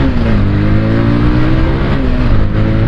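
Bajaj Pulsar 220F motorcycle riding on a highway, a close, loud, steady engine drone with a slight rise in pitch that holds for the whole few seconds.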